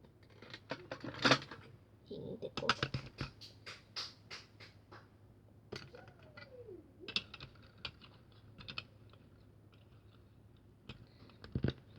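Small plastic Lego bricks click and tap as a house model is assembled, a sparse series of quiet, sharp clicks and snaps spread irregularly with pauses between them.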